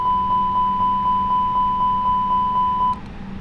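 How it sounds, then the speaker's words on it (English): A rapid series of master warning beeps from an Airbus A320neo flight simulator repeats at an even pace over a steady tone and engine hum, then stops abruptly. "Our master warning is going to go off and it's going to start beeping"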